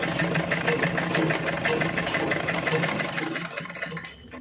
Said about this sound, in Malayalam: ഇപ്പോൾ ആദ്യമായിട്ട് തയ്ക്കണവർ വര ഇട്ടിട്ട് എന്തായാലും അതുമേൽ കൂടെ തയ്ക്കുക